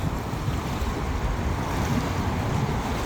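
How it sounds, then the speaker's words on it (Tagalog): Strong river waves, stirred up where passenger boats pass a river cut, slosh against a small fishing boat in a constant rough rumble, with heavy wind buffeting the microphone throughout. "ayan, lakas ng alon"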